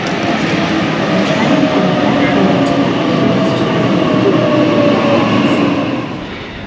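A train rumbles steadily with a loud, continuous roar and faint rattling, heard from inside or very close, easing slightly toward the end, arriving at Bondi Junction in Sydney.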